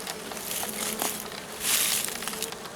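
Honeybees swarm over the frames of an opened mountain apiary hive, a continuous close buzzing that swells in a louder burst partway through, with faint handling noises beneath.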